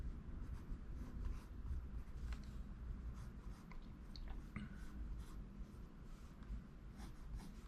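A mechanical pencil sketches a face on paper in quick, continuous scratchy strokes, faint and close up, over steady background hiss.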